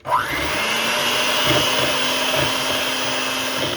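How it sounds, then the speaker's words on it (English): An electric mixer whirs steadily, beating gelatin and a cup of mayonnaise in a bowl, a loud, continuous motorized drone that starts abruptly and holds an even pitch throughout. "Grab a bowl, add that gelatin, a cup of mayonnaise. Beat it."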